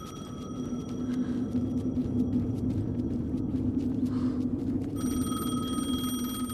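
A telephone rings in the Alan Wake 2 video game, a steady tonal ring that sounds through most of the stretch and returns strongly near the end, layered over a low droning rumble and hum, with no talk.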